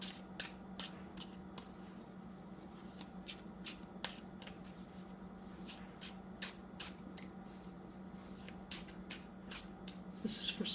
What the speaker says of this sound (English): So I'm just going to shuffle the cards a bit more here